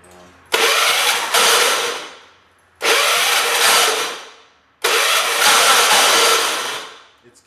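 A John Deere 212 lawn tractor's engine with a starter that keeps catching, cranking in three loud, close bursts, each roaring for a second or two before dying off, separated by short gaps.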